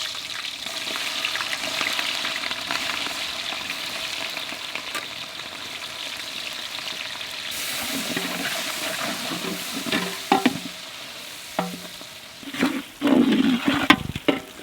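Chopped onions and green chillies fry in a kadai with a steady sizzle while cooking quail biryani, punctuated near the end by stirring and clattering.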